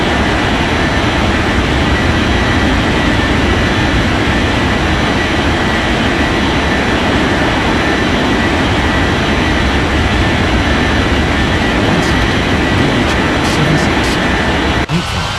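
A jet aircraft takes off in an air traffic control game, a steady loud engine roar filling the whole stretch at constant level, with faint clicks near the end.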